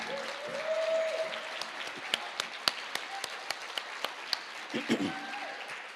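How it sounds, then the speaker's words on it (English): Scattered applause from the audience at a film premiere, with a few sharp, distinct claps standing out over a background of talking and crowd murmur. "Can we give them a round of applause too?"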